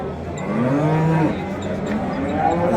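A cow lows at a livestock market in Qorgʻontepa, Andijan, a long drawn-out moo close by, with a second fainter bellow following over a busy market background.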